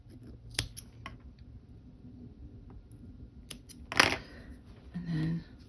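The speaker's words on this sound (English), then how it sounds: "Cut those bits off." Scissors snipping yarn ends off a crochet puppy earbud case, a few sharp crisp cuts spaced apart with quiet rustling between, close and alone without talk.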